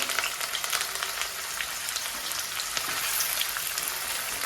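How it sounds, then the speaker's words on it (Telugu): Chopped onions frying in hot oil for a mutton curry with cucumber, a steady close sizzle with fine crackling throughout. "ఇవి ఫ్రై అవ్వాలి బాగా ఫ్రై అయ్యేసరికి"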